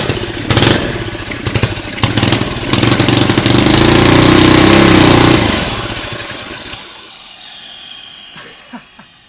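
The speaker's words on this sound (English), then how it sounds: "That's a great turbo noise." Turbocharged mini bike engine revving hard, with loud, near broadband roar and rising turbo spool whine, then easing off to a quieter idle; the turbo's bearings are worn.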